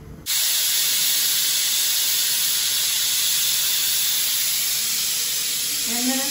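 Steam hisses loudly and continuously from a closed one-pot schezwan rice cooker, starting abruptly and holding a dense, even roar at close range with a faint rising whistle near the end.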